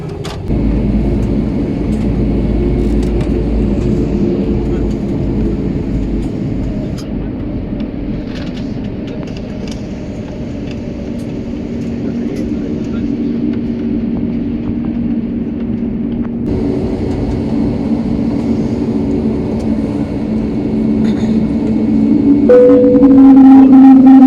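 Cabin noise aboard an Airbus A321neo before takeoff, a steady low engine and air hum that builds toward the end with a rising whine, heard alone without speech.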